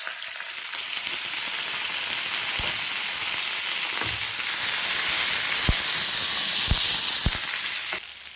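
Small shallots frying in oil, a steady broadband sizzle holding close and loud for about eight seconds, with a few sharp pops and clicks of utensils, no voices.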